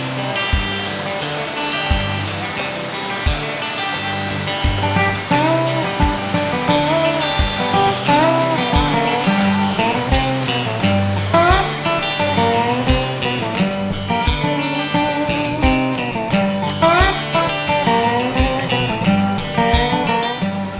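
River cascades at The Sinks waterfall in the Great Smoky Mountains, where the river drops through a blasted crevice, give a loud, continuous rushing roar that carries on under music.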